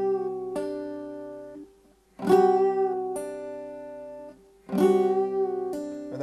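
A lap-style percussive acoustic guitar gives a few short bursts of struck and plucked notes, close and crisp, each followed by ringing tones and brief silences, with flicked pull-offs among the strokes.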